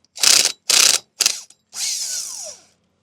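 A socket ratchet clicks through three quick bursts of pawl ratcheting on a 3/4 inch nylon lock nut and bolt on tow bar adapter brackets, followed by a longer, smoother whirring spin as the nut loosens, close and loud.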